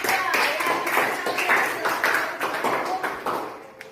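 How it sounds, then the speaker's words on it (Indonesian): A class claps for a student group, a close, brisk patter of many hands. The clapping is uneven and busy, with a few louder individual claps standing out before it thins near the end. "Kita beri tepuk tangan dulu untuk kelompok 2"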